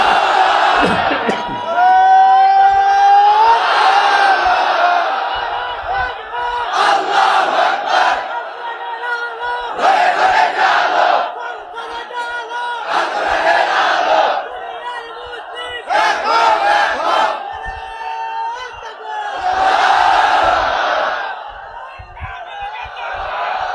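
A large crowd at an Islamic religious sermon chants the takbir response in repeated loud, rhythmic bursts, a lead voice calling out between the surges of many voices.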